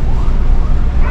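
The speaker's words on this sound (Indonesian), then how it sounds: "Dahulu kan ambulan." Brief burst of an ambulance siren over loud road and engine rumble, heard up close for about a second with no voices.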